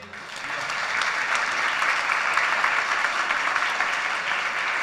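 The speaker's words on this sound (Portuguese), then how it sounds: "Aplauda o Senhor." A church congregation applauds, a full, steady wash of clapping that swells in the first second and then holds at an even level to the close.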